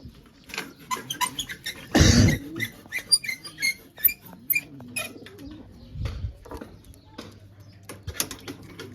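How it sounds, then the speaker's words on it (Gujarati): Pigeons arriving at a coop make soft, low cooing calls mixed with scattered scratches, taps and a brief burst of fluttering wings, all fairly quiet and close. "આપણા કબૂતર આવી રહ્યા જોવો તમે"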